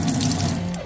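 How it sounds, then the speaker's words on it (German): Water runs steadily from a faucet fed by a submersible pump into a sink fitted in a Peugeot Boxer L1H1 camper van conversion; a brief, close, continuous splashing flow with no talk. "Waschbecken haben wir eingebaut und einen Wasserhahn."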